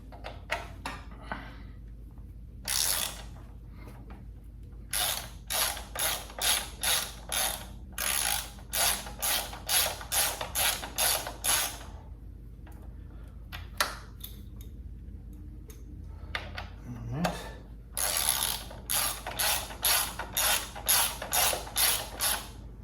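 Ratchet wrench loosening T40 Torx fasteners on the grab handle of a 2024 Triumph Scrambler 400X, with close, rapid clicking bursts repeating in runs with brief pauses between them.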